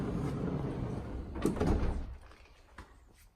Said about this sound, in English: So the electric sliding doors open off just a pull or a press on the button.